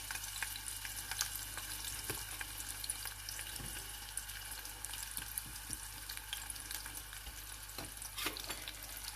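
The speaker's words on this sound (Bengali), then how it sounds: "তো আমি হচ্ছে কাটা পেঁয়াজগুলো এখন দিয়ে দিচ্ছি তেলে।" Chopped onions hiss and crackle as they fry in hot oil, a steady dense sizzle that runs close and loud through the whole stretch, with scattered pops and no voices.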